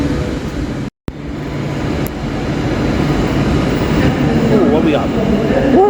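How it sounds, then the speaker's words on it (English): Train arriving at Queen's Park station in London, a loud, steady rumble of rolling wheels and carriages that builds over several seconds, with faint voices underneath. "My train will be here in a second."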